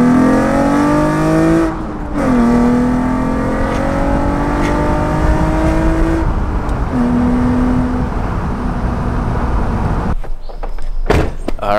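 Car accelerating on the road, a loud close engine note rising in pitch through several gear pulls with brief drops between shifts, ending in a few sharp clicks and knocks.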